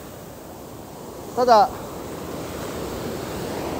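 Surf rolling in on a beach at Kashima-nada during shore fishing for flounder, a steady broadband wash running throughout with a brief voice breaking in near the middle.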